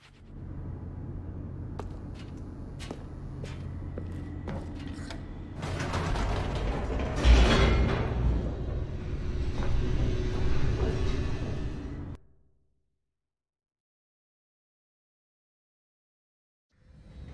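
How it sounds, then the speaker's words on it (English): An elevator descending in the video game The Stanley Parable, a continuous mechanical rumble with creaks, clicks and grinding gear noise that swells midway, runs for about twelve seconds and then cuts to silence. "The elevator raced downward"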